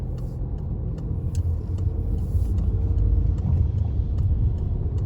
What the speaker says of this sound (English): So prepare my car, check my mirrors, and off I go.